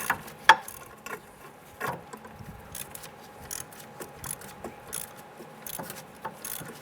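Loosening the bottom rear hub bolt on a 2005-2010 Chrysler 300 with a swivel and inverted Torx socket produces quiet, close, irregular ratchet clicks and light metallic ticks throughout, with one sharper clack early on and no talk.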